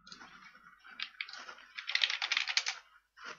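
Rapid keystrokes on a computer keyboard come in close, uneven bursts, building to a dense flurry of typing before a brief pause and a final short run of key presses.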